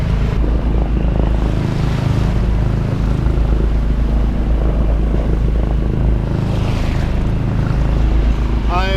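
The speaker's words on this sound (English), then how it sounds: "Well, more motoring for me today." A sailboat's engine drones steadily as it motors through gentle swell at sea on a windless day, giving a loud, constant low rumble with wind and water noise mixed in.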